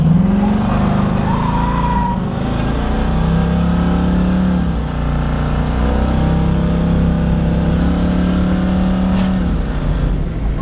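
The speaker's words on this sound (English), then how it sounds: "driving this 70 Camaro" A 1970 Chevrolet Camaro drives on a road, its engine a loud, close, continuous drone that rises and falls in pitch as it accelerates and shifts.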